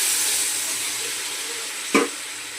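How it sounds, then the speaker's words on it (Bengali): Water poured into a hot pan of sizzling tilapia, eggplant and potato curry gives one brief burst of hiss and splash over a steady background sizzle, with no talking. "জল দিয়ে দিচ্ছি।"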